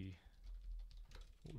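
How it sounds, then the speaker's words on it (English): Quiet typing on a computer keyboard, a soft, uneven run of small key clicks lasting under two seconds, set against faint background noise. "I can just start typing stuff"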